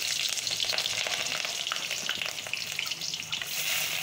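Green chilies drop into potato sabzi frying in oil, giving a loud, steady sizzle with light stirring scrapes throughout, no voices.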